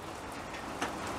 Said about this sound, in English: without fail, it starts raining